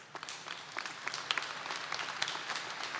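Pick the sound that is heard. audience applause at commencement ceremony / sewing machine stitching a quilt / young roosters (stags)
audience applause at commencement ceremony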